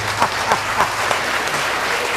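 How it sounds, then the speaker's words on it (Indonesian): Studio audience applause, a short burst of clapping with a few louder claps early on that quickly fades to a soft patter. "Ya, tepuk tangan."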